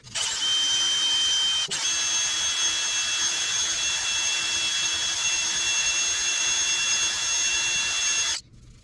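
A ridge reamer cutting the cylinders of a small-block Chevy 350 engine block, a loud, steady high-pitched whine of a power tool running near continuously for about eight seconds with one brief dip, then stopping.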